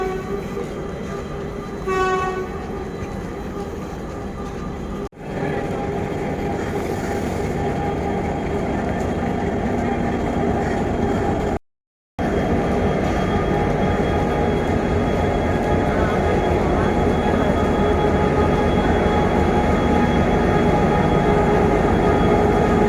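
A train at a railway station rumbles steadily throughout, with a horn-like tonal burst near the start and a brief dropout midway, as a continuous loud rail-yard din.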